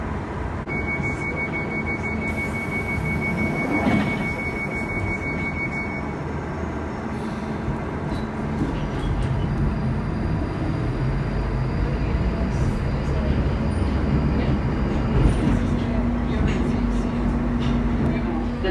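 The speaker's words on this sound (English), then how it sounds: "This is a Northern Line train via Bank, terminating at Morden." A London Underground Northern Line train on the Bank branch running between stations, a steady loud rumble with rail squeal and onboard announcements spoken over it.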